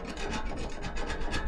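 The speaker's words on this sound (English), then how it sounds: "Get a little bladed scraper for this part." A bladed scraper rasps steadily against leftover wall plaster, producing a close, continuous gritty scraping in repeated strokes with no voices.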